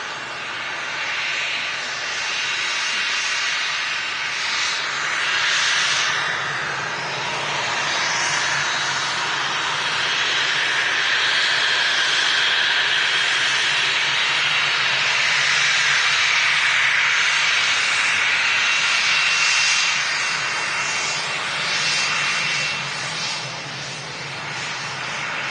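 An airplane arrives at Manchester Airport from Frankfurt Hahn, with a sustained, loud jet-engine roar and hiss that holds steady and swells slightly as it passes nearby.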